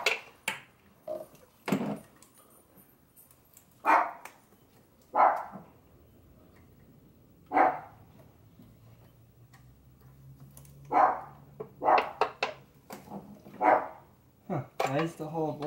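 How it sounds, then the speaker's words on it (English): Dogs bark outdoors during a spark plug change on a 2012-2019 Chrysler 300 V6, sharp isolated barks scattered across the stretch, fairly distant and moderate in level, with a faint low hum between them and no talk. "Sorry for the dogs barking."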